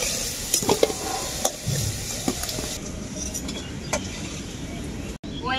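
Potatoes, fried until well browned, stirred in hot oil in a pan, with a steady close sizzle and scraping, clinking utensil strokes against the cookware.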